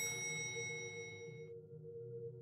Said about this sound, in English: That was the sound of the elevator closing.